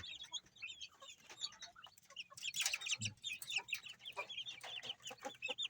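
A hen clucks softly and repeatedly beside her chicks, which peep in quick high chirps inside a screened wooden brooding cage, the sounds close and continuous with no one speaking.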